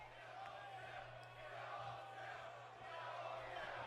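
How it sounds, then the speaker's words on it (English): A dense arena crowd in Chicago, Illinois chants during a WWE 2K18 wrestling match, a steady wall of voices that stays loud throughout with a constant low hum beneath it. "Still kill Owens, kill chants here in Chicago, Illinois."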